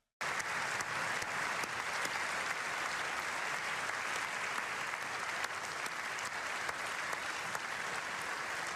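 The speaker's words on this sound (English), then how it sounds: "Is everyone clapping? Everyone clapping." Sustained applause from a large audience at the State of the Union, steady and loud from start to finish, with no one speaking over it.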